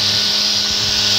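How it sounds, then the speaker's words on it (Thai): A battery-powered iMax cordless electric grass trimmer runs at steady speed, giving a constant close motor whine with no speech. "เครื่องตัดหญ้าไฟฟ้าไร้สายนะครับยี่ห้อ iMac นะครับ"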